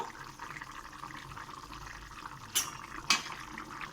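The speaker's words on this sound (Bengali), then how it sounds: "তরকারিটা এরকম টকবক করে ফুটছে" A potato curry simmers on the stove, giving a low watery bubbling close by with two brief louder pops near the end.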